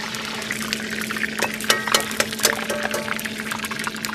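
Cooking oil poured into a hot wok over a strong fire gives a liquid pouring gurgle under a steady hum, with bursts of splashy crackle in the middle.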